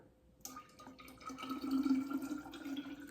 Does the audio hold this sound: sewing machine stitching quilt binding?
no